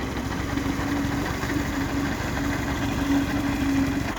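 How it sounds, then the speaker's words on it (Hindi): A tractor fitted with a front reaper and a radiator cover runs steadily during wheat harvesting, a loud continuous engine drone with a low mechanical hum and rough texture throughout. "ये आ गया जी ट्रैक्टर"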